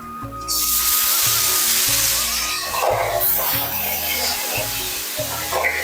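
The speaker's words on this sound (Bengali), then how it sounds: "এবার আমি মাছগুলো কড়াইতে দিয়ে ভেজে নেবো এক এক করে" Turmeric-coated pabda fish sizzle in a hot wok, with a loud, steady frying hiss that starts abruptly and continues under a low rhythmic background.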